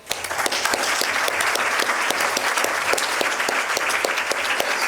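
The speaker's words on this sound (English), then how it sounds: "If you could join me for a round of applause" An audience applauds after a panel on redefining Islamic law in the modern world, dense steady clapping filling the room at full volume with no talk over it.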